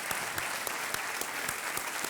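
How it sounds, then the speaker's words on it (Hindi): Steady, dense studio audience applause on a Hindi quiz show set, a sustained wash of many hands clapping loudly and evenly throughout, with no talk over it. "तालियों के साथ इनका अभिनंदन।"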